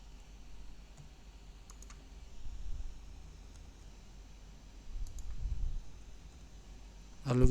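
Student grades are entered on a computer keyboard, producing soft scattered key clicks over a steady low room hum, with a louder click burst at the end.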